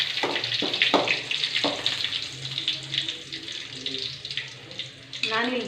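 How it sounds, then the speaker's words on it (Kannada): Green chillies frying in hot oil in a home kitchen, a steady close sizzle and crackle with a few sharper pops and spatters, loudest near the start and end. "ಇವಾಗ ಹಸಿರು ಮೆಣಸಿನ್ಕಾಯಿ ಹಾಕೋಣ. ಸ್ವಲ್ಪ ಫ್ರೈ ಮಾಡಿ, ಸ್ವಲ್ಪ ಫ್ರೈ ಆಗುತ್ತೆ ಚೆನ್ನಾಗಿ."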